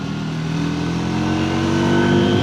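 A Triumph Tracker 400 motorcycle's engine revs steadily through its mid-range while riding, a continuous close drone that rises slightly in pitch and loudness over a couple of seconds.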